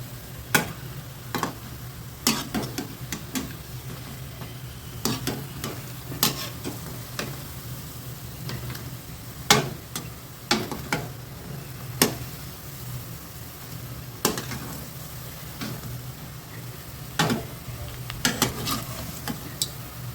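Black urad dal vadai frying in hot oil, a continuous bubbling sizzle with frequent sharp ticks and taps of a utensil against the pan, close and steady throughout.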